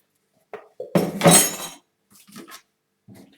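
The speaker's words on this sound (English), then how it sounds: "Just scoop that off the bowl." Spoon scraping thick chocolate Yule log filling off a bowl: a few short clinks and scrapes of utensil on the bowl, close and distinct, separated by brief quiet gaps.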